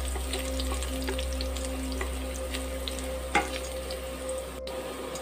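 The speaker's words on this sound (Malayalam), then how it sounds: "ഇതിലേക്ക് ഇഞ്ചിയും വെളുത്തുള്ളിയും കൂടെ നമ്മൾ ചെറുതായിട്ട് അരിഞ്ഞിട്ട് തരാവേ നന്നായിട്ടൊന്ന് മൂത്ത് വരട്ടെ" Chopped ginger and garlic fry in a pan for a mutton stew, giving a steady close sizzle throughout with a brief utensil clink partway, and no talking.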